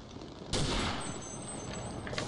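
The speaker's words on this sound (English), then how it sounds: "Let's just shoot them with a gun." Gunfire in the Day of Defeat video game rings out as a sharp burst of shots followed by a steady crackling rattle, moderately loud with no talking.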